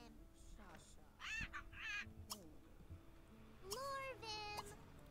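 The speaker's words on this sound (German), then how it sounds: "Genau, sie kümmert sich hier um den Papagei." A pet parrot in The Sims 3 gives several squawks and warbling calls, including a bright rising call near the end, heard quietly over game background.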